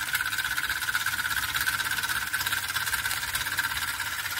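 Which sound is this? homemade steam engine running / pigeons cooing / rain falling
homemade steam engine running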